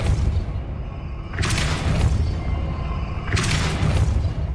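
Depulso force spell cast in Hogwarts Legacy: two loud, broad whooshing blasts about two seconds apart, rising over a constant rumbling game background.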